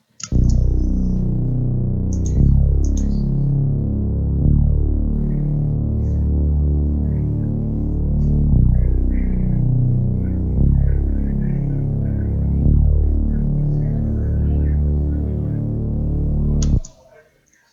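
Bass line from an FL Studio remake of a song: a thick, loud, continuous throbbing bass pattern that pulses steadily in a repeating rhythm for the whole passage, with faint clicks on top, before stopping abruptly.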